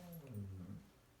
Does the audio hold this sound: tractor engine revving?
no